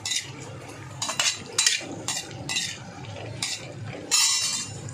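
A spoon stirs cashews roasting in ghee in a pan, making repeated close metallic scrapes and clinks in uneven bursts over a low steady sizzle.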